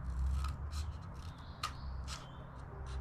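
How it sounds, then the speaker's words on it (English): Scissors cutting straight lines into a cardboard toilet roll to make petals, a few quiet crisp snips and rustles close by in a soft room. "I'm going to cut into my toilet roll to make my petals."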